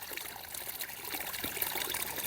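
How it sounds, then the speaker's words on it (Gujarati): A thin, weak trickle of water runs from a well pipe on a farm, a quiet and steady dribble with no voices over it. "આમ ઓછું હોય એટલે પાણી બહુ ઓછું આવે"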